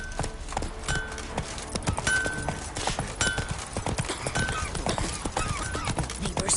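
Roach the horse gallops in The Witcher 3, a rapid, steady clatter of hooves that runs throughout at close range, with no talk over it.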